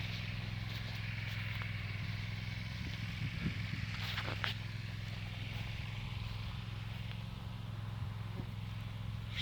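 A small farm tractor engine hums steadily at a low pitch throughout, a faint continuous drone outdoors at a homestead, with a few brief clatters and knocks over it.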